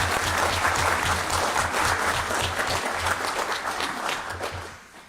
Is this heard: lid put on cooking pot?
no